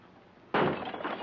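A glass window pane is smashed with a hammer in a 1943 comedy-horror film, one sudden close crash followed by a brief spill of breaking glass.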